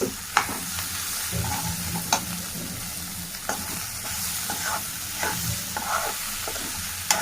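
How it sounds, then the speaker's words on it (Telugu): Carrot, beans and peas frying in a pan with spice powder, stirred with repeated scraping strokes every second or so over a steady close sizzle. "ఇప్పుడు పొట్టనాల పొడి వేసాము చాలా బాగుంటుంది ఇప్పుడు ఇందులో కలుపుకోవాలి బాగా"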